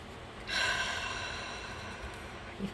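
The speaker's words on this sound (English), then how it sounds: "Yoga breath." A forceful yoga-style exhalation, one strong breath pushed out after a brief quiet start and then trailing off slowly, close and fairly loud.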